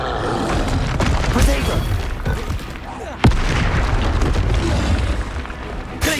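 Booming spell explosions erupt in the Hogwarts Legacy video game during combat, loud rumbling blasts with a sharp crack near the middle, heard amid continuous battle noise.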